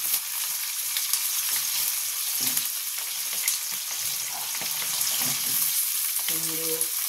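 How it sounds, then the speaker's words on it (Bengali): Potatoes frying in oil for a Bengali palong shaker torkari, a continuous bright crackling sizzle with occasional stirring, close and steady throughout, with a brief faint voice near the end. "আলুটা আমি একটু ভেজে নেব।"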